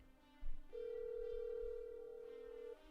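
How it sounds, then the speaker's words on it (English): A telephone call rings out in a single long, steady electronic tone that lasts about two seconds, quiet and alone, with low background hum. "I'm going to try and call my wife again."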